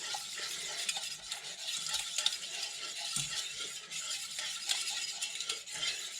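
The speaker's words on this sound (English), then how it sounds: "So I'm going to add in a bit of the gum arabic and start whisking." Gum arabic being whisked into a warm, steaming scented paste mix (skhab), a steady brisk scraping and stirring against the pot, close and continuous with faint sizzling beneath.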